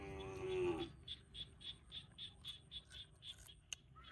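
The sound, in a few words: cows and buffalo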